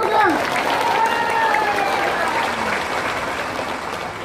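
A crowd applauds at a religious gathering in a village, with steady clapping throughout and a voice speaking over it at the start.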